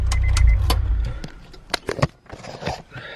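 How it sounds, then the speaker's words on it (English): A Honda S2000 engine is switched off: a low idle rumble stops within the first second, followed by a few clicks, taps and small interior rattles in a quiet car cabin. "Let's go ahead and shut off the car."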